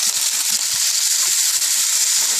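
Snow peas hitting a pan of hot oil and chili powder for a Punjabi katar sabzi, giving a steady, close, continuous sizzle and hiss with faint crackles throughout, no voices.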